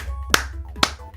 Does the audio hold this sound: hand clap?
yes